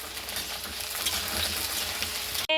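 Onions fry in a hot pan with a close, steady sizzle and the scrape of stirring. A sharp clatter comes right at the end.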